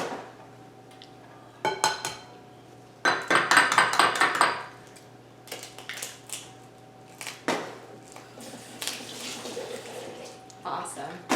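Eggs cracked one at a time into marble pistachio cake batter give several sharp, brief clicks and clinks against a bowl, with some louder clattering in between, over a quiet kitchen background.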